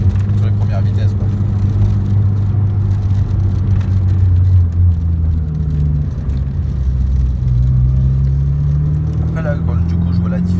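A turbocharged Honda Civic EK with a B16A2 engine tuned to 450 horsepower drones steadily from inside the car, its engine tone slowly rising and falling over a constant road roar, with people talking over it.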